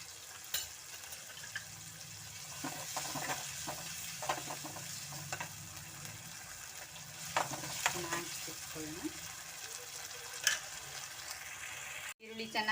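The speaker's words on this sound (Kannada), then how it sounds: "ಈರುಳ್ಳಿ ಚೆನ್ನಾಗಿ ಬೇಯ್ತಾ ಇದೆ ನೋಡಿ. ಚೆನ್ನಾಗಿ ಫ್ರೈ ಆಗಲಿ, ಹಸಿ ವಾಸನೆ ಎಲ್ಲ ಹೋಗಲಿ." Onions with green chillies frying in a pan for a gravy, a steady broadband sizzle with intermittent scraping stir strokes throughout, close and moderately loud, with a brief clatter near the end.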